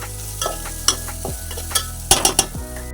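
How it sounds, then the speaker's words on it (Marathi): Ground onion-coconut masala paste hitting hot oil, with a soft sizzle and several clear clinks and scrapes of a spoon stirring in the pan, close up. "कांदा खोबऱ्याचा मसाला वाटण केलेला तो टाकूया"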